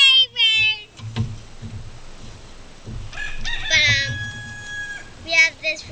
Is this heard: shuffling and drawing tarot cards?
no